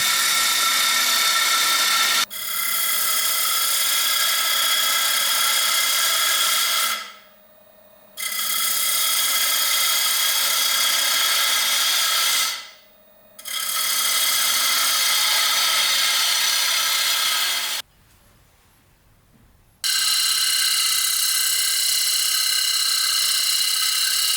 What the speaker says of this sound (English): I've got to cut this in such a fashion that the inside of the bowl closes in on itself